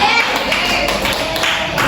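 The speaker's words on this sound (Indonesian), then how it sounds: "Tepuk tangan untuk Aurora." Loud, dense applause from a class of students, a steady wash of many hands clapping close by, with faint voices mixed in.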